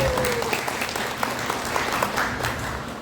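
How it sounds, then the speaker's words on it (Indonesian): An Indonesian seminar audience gives the professor a round of applause, dense continuous clapping that fills the hall at a fairly loud level, with a faint voice briefly underneath. "Beri tepuk tangan sekali lagi yang benar kepada Prof."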